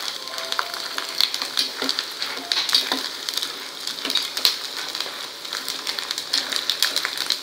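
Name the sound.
sabudana (sago pearls) frying in oil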